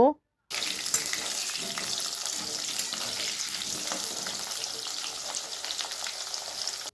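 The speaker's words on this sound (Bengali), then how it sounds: "আলুগুলোকে দেব কড়াইয়ের মধ্যে আলুগুলোকে ভালো করে ভেজে লাল লাল করে নেব" Potato pieces fry in hot oil in a kadai for a pabda fish curry with aubergine, a steady close sizzle that starts abruptly after a brief silence and continues evenly to the end.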